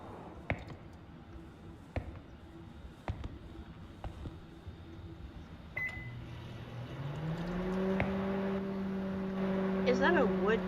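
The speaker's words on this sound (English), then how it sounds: "I think I left some food in the microwave." A microwave oven in the horror video game Terminal Tape starts up, its low electric hum swelling and holding steady after several sharp clicks and taps, with a faint beep near the end and a voice talking at times.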